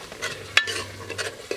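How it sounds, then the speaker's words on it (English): Ekuru ingredients being stirred into a stew in a pot, soft wet scraping and churning close up with a single sharp clink of a spoon against the pot. "Then stir it together, mix it thoroughly with the stew"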